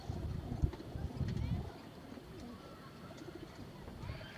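Pigeons kept in a cage give low, soft cooing that is strongest at the start, then fades into a quiet room background with faint rustling.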